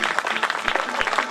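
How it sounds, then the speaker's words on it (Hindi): Audience at a government upper primary school's annual day function in Jalore, Rajasthan, applauding in a brief scattered patter of claps, fairly close, with a voice faintly mixed in. "जोरदार तालियां हो जाए एक बार"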